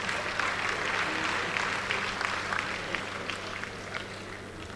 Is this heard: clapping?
yes